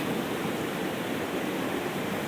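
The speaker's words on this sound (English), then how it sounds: "Just a little bit of water coming out because somewhere the source pipe is squished" Water from a squished source pipe spills steadily into a swampy puddle, a continuous broadband rush that stays even and close with no voices over it.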